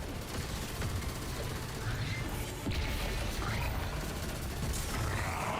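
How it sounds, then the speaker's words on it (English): Machine gun fire in a Destiny-style shooter game, a dense continuous clatter of rapid shots under busy game effects, with a louder burst midway. "Eat my machine gun."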